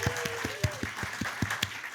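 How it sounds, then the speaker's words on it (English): A comedy show audience claps for a performer, the hands falling into a fairly regular beat with a few louder claps, while a voice briefly carries over the top. "Round of applause for Erin Tett, everybody."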